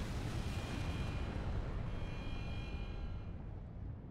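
Rumbling explosions in Final Fantasy XIV, a dense, loud, continuous roar of blasts and debris with no clear gaps, holding steady and thinning slightly at the end.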